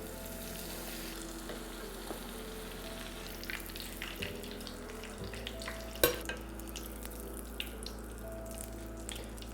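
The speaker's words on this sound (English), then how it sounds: "this is gonna be fried for about 1 minute" Breaded soft-boiled eggs frying in 400-degree oil, a quiet continuous hiss and gentle bubbling from a little distance, with a steady low hum underneath and a single sharp clink about midway.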